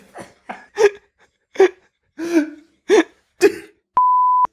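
A steady, pure censor bleep tone sounds at the end after several short muffled vocal bursts, loud and clean.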